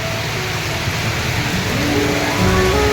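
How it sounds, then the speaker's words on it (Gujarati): Heavy rain falls in a constant broadband rush at a village market, with a faint tonal hum rising and shifting underneath, like a vehicle passing in the wet. "વરસાદ ધોધમાર વરસી રહ્યો છે"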